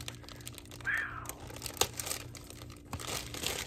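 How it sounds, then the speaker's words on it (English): Packaging crinkles up close while a happy mail box is unpacked: soft rustles with a brief sharp crackle in the middle, fairly quiet overall. "Don't you love how I say sorry for the crinkling and then I'm doing the crinkling right by the camera."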